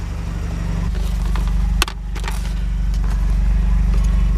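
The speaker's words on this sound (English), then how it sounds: "Alright, I'm ready to start this car up." A Mazda RX7 FD Type RS rotary engine starts with a brief sharp catch, then settles into a loud, close idle. The steady engine drone continues to the end.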